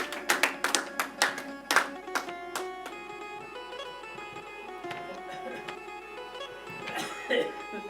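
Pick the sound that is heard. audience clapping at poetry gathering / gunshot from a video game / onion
audience clapping at poetry gathering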